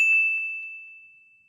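A single bright bell ding rings out once, clear and alone, then decays slowly into a long sustained tone that fades over about a second and a half.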